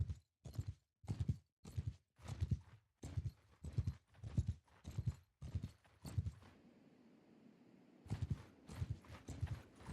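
Sumpter horse hooves in a medieval cavalry video game, a steady rhythmic clip-clop of walking hooves, close and clear, pausing briefly before resuming.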